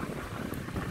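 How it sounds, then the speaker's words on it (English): Strong wind outdoors near a ship, buffeting the microphone as a dense rumbling roar that holds steady through the brief moment, with no voices. "It's really windy out here."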